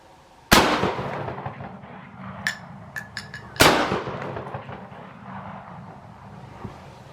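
Two sharp, loud gunshots, a few seconds apart, from an air rifle firing spread pellets at a target on top of a drum outdoors at dusk. Each shot rings out briefly in the open air, and faint metallic clicks come between the shots.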